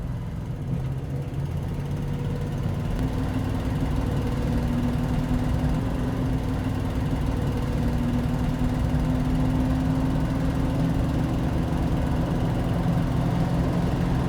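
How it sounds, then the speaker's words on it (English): A 1992 Dodge Ramcharger 4WD running through its gears on the road, a steady low engine drone with a faint rising whine, heard from inside the cab, no talking. "Show you guys the vehicle running through the gears here a little bit."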